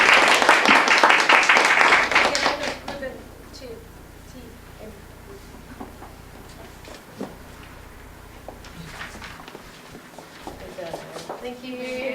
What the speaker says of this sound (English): another stormy applause to everybody